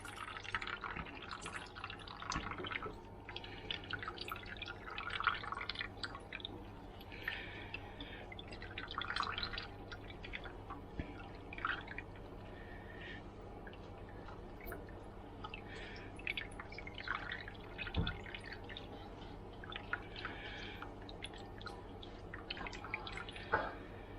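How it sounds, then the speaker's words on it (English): Water dripping and trickling from freshly mixed dough squeezed by hand, faint and close, in irregular small drips and splashes against a quiet room. "So we're gonna squeeze out as much of the water as possible"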